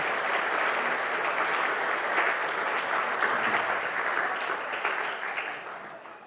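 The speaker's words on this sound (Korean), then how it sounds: "우리 아이들 그리고 또 우리 교사 선생님들을 위해서 우리 큰 박수로 한번." A church congregation at Sunday worship applauds the children and teachers: a steady, dense wash of many hands clapping that holds evenly for about six seconds before easing slightly at the end.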